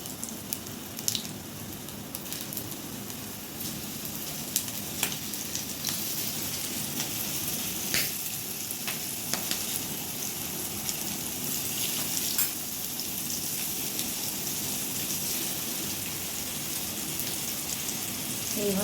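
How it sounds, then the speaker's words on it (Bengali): Okra frying in hot oil for a crispy kurkure bhindi dish, giving a steady, dense sizzle with scattered crackles and pops throughout, fairly close and with no talking. "এটা ফ্রাই হয়ে গেছে, এবার আমি এটা তেলের থেকে উঠিয়ে নিচ্ছি।"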